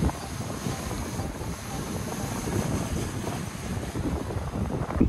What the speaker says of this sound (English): It's strong wind today.